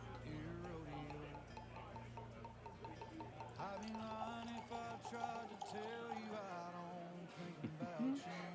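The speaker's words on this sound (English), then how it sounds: "let's see if we can get a good neck pour going here" Whisky poured straight from the bottle neck, a glugging liquid pour with a rising tone as the glass fills, heard close by under a tavern's background chatter.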